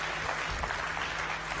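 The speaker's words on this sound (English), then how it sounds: "Let's give another big hand clap to Richard" An audience at an annual members' meeting applauds a speaker, a dense, steady burst of clapping from many hands that fills the whole moment.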